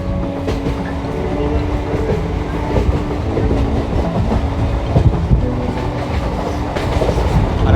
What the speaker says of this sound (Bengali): আর আমাদের ট্রেনটা কিন্তু গোপালনগর থেকে খুব সুন্দর একটা কার্ভ নিচ্ছে